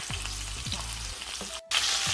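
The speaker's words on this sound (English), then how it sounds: "I am cooking this chicken 5 minutes on each side" Steady crackling sizzle of chicken drumsticks frying in a hot pan, continuous and close, with a few low clunks and a brief dropout near the end.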